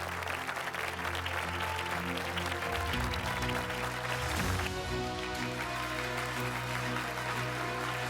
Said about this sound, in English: Let's welcome them onto the stage of ours with a big, big, big round of applause